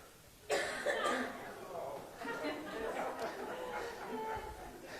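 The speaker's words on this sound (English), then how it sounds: "I know there was some coughing going on." A faint cough breaks out amid quiet audience murmuring and chatter, followed by low background voices and shuffling in a room.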